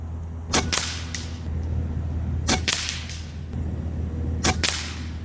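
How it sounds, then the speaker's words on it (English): Three soft, sharp puffs from a quiet Kral Arms Puncher Jumbo PCP pellet air rifle, spaced about two seconds apart over a steady low background hum, with no talking. "Never heard a rifle this quiet."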